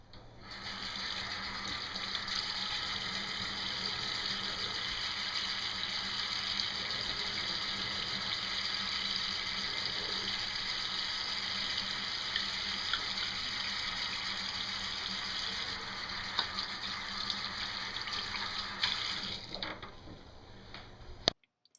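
Water runs steadily from a tap during a hand-washing lesson, a continuous even gush lasting about twenty seconds before cutting off near the end.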